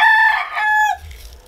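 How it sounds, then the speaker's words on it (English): A neighbor's rooster crows once, loud and close, a single rising-then-falling call lasting about a second outdoors. "there's the rooster"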